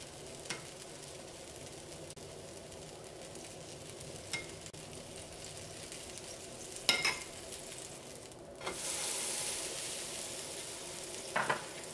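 Semolina (rava) bread toasting in butter on a pan: quiet background with a few soft clinks, then a loud hissing sizzle swells up and holds through the final seconds.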